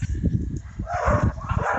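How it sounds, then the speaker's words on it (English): Dogs bark a few times at a farm yard on a very hot day, short woofs close by with a voice partly mixed in. "God knows what the dogs are barking at now."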